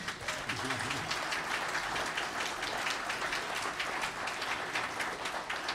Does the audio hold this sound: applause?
yes